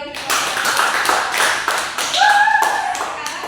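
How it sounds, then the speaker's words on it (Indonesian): Classroom applause during a microteaching lesson, a short burst of scattered hand claps from students, fairly close, with a sustained high whistle-like tone near the end. "Mari kita beri tepuk tangan yang meriah untuk"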